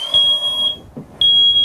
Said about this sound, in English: the photoelectric alarm sounds